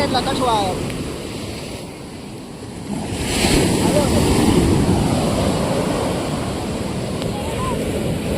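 Sea waves surge and wash onto the shore at Hathab Bungalow beach near Bhavnagar, a steady loud roar with wind buffeting the microphone throughout, swelling midway.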